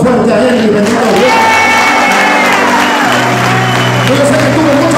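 Congregation at a church praise night giving a brother a loud burst of applause and cheering, a dense crowd of clapping sustained for several seconds alongside voices.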